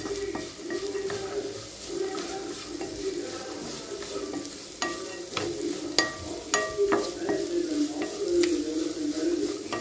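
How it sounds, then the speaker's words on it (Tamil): Grated carrot is stirred and sautéed in oil over a low flame, giving a steady soft sizzle with repeated scraping clicks of a spoon against the pan, close and moderately loud, with no talk. "இப்போங்க ஒரு அஞ்சு நிமிஷம் கேரட்டை நல்லா எண்ணெயிலையே வதக்கிக்கலாங்க"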